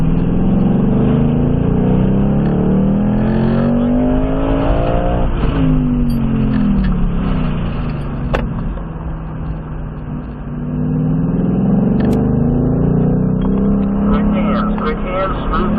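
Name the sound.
Ford Mustang Mach 1 accelerating on race track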